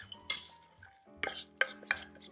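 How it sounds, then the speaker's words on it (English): Cooked wild rice spooned into a bowl for a sweet potato salad, a handful of soft scrapes and light clinks of a utensil against the dish, quiet and close. "we're just going to put the wild rice into the bowl first"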